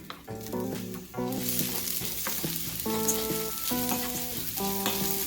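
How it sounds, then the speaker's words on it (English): Quinoa toasts in a hot pan, crackling and sizzling loudly up close, with the frying intensifying after a brief moment and continuing steadily with no one talking. "You can hear that pan is nice and hot."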